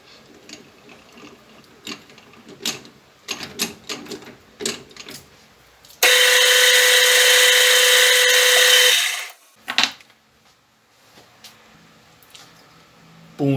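Electric drill boring a through hole with a 3.5 mm bit while building a noisy bollard: a loud, steady whine runs about three seconds, then spins down, with scattered clicks and handling knocks before and after.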